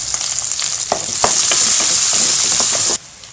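Ginger, garlic, onion, dried chillies and curry leaves sizzle loudly in hot oil, a steady bright frying hiss with a few stirring knocks, cutting off near the end.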